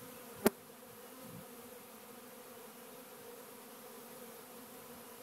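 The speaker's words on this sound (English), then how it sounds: "these are all the bees trying to look for a place to live" A swarm of honey bees disturbed and lying on the ground, giving a faint, steady, low buzzing drone throughout, with one brief sharp click near the start and no talking.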